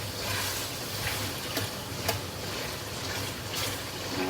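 Beef frying with plenty of turmeric is stirred in a pan, giving a steady, dense sizzle with faint scraping ticks from the utensil throughout, and no voices.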